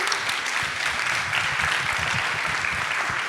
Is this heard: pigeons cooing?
no